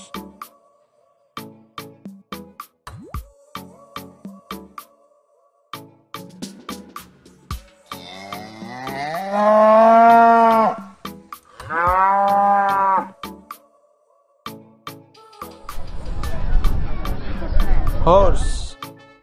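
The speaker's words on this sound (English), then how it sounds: "Cows." Cattle moo in several long, loud, drawn-out calls, near and clear, between bursts of clicking and chewing sounds, with a final rougher low moo blending into background noise.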